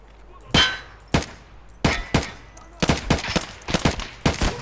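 Gunfire in the shooter game Escape From Tarkov: sharp, loud single shots, first spaced apart and then in a quicker irregular burst, each with a brief metallic ring and short decay.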